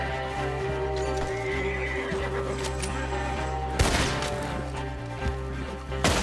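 Horses whinny and neigh over thudding hooves and a steady background drone, with a few sharp crashes mixed in, in the video game Red Dead Redemption 2.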